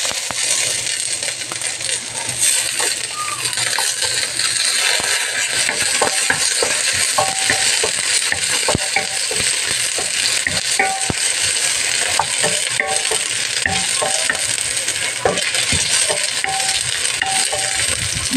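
Onions frying in oil for squid adobo, a constant bright sizzle with frequent light clinks and scrapes of a utensil stirring in the pan, no talking.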